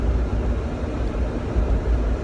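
Inside a car while driving, a steady low rumble of road and engine noise, fairly loud and continuous, with no talk.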